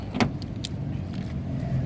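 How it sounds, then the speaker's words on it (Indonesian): A 2005 Toyota Camry 2.4 G automatic is unlocked with its remote key: a quick sharp lock actuator clunk, then a couple of lighter clicks as the door is opened, close by. "ini dia kuncinya tergabung dengan remote. Sekarang kita coba ya, buka mobilnya."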